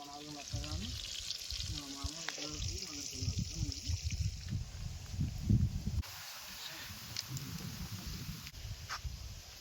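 Crunchy fish fry sizzling steadily in hot oil in a pan, a continuous close crackle and hiss heard under ongoing talk.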